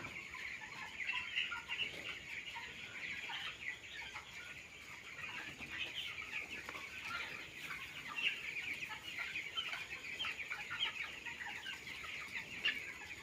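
Chickens in a poultry farm shed cluck continuously in a dense, overlapping chorus, moderately close and steady, with no talking.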